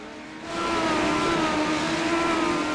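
Race cars in an iRacing video game roar by, the engine drone swelling after a quieter half second and then holding steady and loud, alone without commentary.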